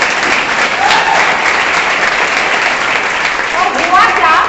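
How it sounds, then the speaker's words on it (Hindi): Loud, sustained applause from a seminar audience in Agra, steady dense clapping throughout with faint voices rising underneath near the end. "तो एक बार मेरे पतिदेव के लिए तालियां बजाएंगे।"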